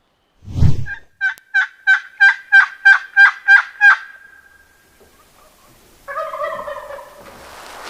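A wild turkey tom gobbles loudly nearby in a rapid rattling burst, followed by fainter honking calls from another fowl in an outdoor setting near a hillside power line.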